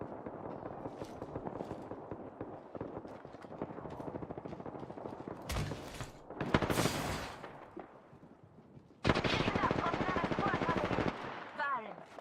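Video game gunfire: rapid bursts of automatic shots crackle quietly for several seconds, followed by louder sharp volleys and a final burst, with a player's voice talking faintly over parts of it.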